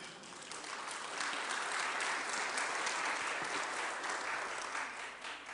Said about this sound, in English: I was hoping you'd clap because I think that's cool.